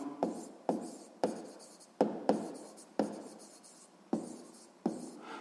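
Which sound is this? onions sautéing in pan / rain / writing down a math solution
writing down a math solution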